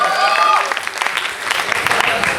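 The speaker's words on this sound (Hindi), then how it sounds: "एक बार जोरदार ताली होनी चाहिए" Applause from a crowd at a college fresher event after a dance performance, dense clapping spread across the whole moment with a compere's voice talking over it.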